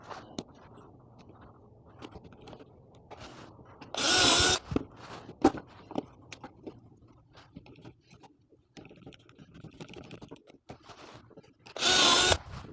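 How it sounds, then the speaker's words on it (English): A power drill bores pocket holes into 1x2 boards in two short, loud bursts, one early and one near the end, separated by quiet workshop handling noises and soft clatter. "I'm going to drill 3 pocket holes in each of these 1x2s"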